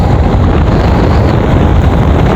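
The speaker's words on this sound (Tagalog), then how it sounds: "Lakas talaga ng hangin pagkapahita" Strong wind buffets the microphone with a constant, loud, low roar and rumble throughout, no other sounds coming through.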